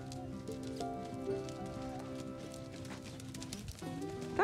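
An off-the-track Thoroughbred mare canters during a schooling ride, giving soft rhythmic hoofbeats under louder sustained background music.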